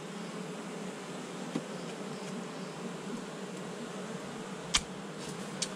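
Honeybees from a colony being inspected buzz in a steady, continuous drone close by, with a few brief clicks and knocks of handling over the top; no one speaks.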